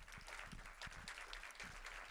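Audience applause for a guest at the close of a film masterclass, a faint, distant wash of clapping from a crowd that holds steady for about two seconds.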